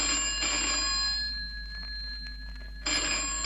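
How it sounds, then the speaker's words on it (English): A telephone rings in bursts with a quiet gap between them, loud and close, with steady electronic tones and no talking. "I listened to the phone ring."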